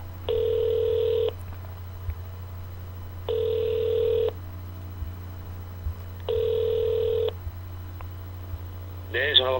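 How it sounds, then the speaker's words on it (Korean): Telephone ringback tones sound while a call is being connected during a Korean radio talk show: three evenly spaced buzzing rings about a second long each, over a low steady hum, followed by a brief voice at the end. "전화 연결하고 있습니다"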